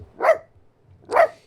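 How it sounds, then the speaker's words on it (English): A dog gives two deep, resonant alarm barks about a second apart, loud and close with brief quiet between them and no talking. "He barked, not a simple hello bark, but a deep, resonant alarm call he reserved for true emergencies."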